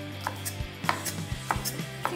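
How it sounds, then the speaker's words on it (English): Asparagus being cut with a knife on a board, a handful of crisp, evenly spaced chops up close with no talk over them. "Cut up some asparagus."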